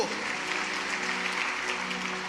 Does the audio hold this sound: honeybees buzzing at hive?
no